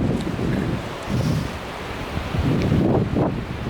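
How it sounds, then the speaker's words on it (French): Small Atlantic Ocean waves wash against the shore in a continuous, rushing surf roar, with gentle swells rising and falling under strong wind buffeting the microphone, no voices. "Je vous emmène aujourd'hui visiter les vagues de l'océan Atlantique."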